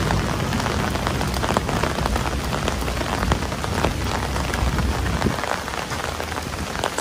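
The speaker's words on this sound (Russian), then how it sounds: "шторм и конец света на улице" A heavy rainstorm outdoors, with dense rain pattering and splashing on surfaces in a loud, continuous wash and sharp close drops throughout, with no talk.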